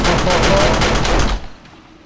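Automated turrets firing in 7 Days to Die, a loud, fast stream of rapid shots that cuts off abruptly after about a second and a half, leaving a faint tail.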